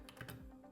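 Quick typing on a computer keyboard, a short run of close, soft key clicks with a few distinct taps in under a second, quiet and alone.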